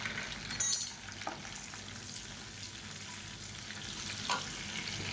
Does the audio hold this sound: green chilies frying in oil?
yes